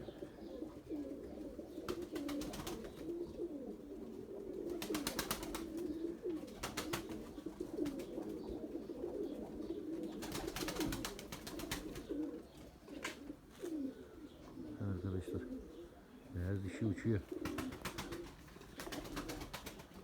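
Pigeons coo steadily throughout in a low, rolling murmur, many birds close by, with intermittent bursts of wing flapping and rustling noise mixed in.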